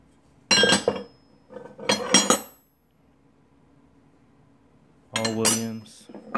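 Vintage Williams engineer's wrenches clink and clatter as they are handled, heard in three sharp metallic bursts separated by a quiet gap, fairly close and alone.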